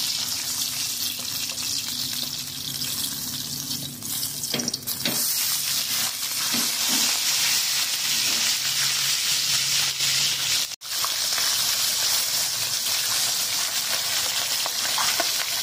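Fish fries in hot oil in a pan, giving a steady, loud, dense sizzle that runs throughout with only a brief dip, and occasional faint scraping as the pan is swirled.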